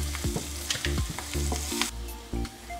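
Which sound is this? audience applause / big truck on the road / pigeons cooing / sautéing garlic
sautéing garlic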